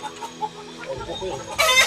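Chickens cluck close by in a coop in Tasgaon, Vitthalnagar, short repeated clucks over a low background before a louder burst near the end.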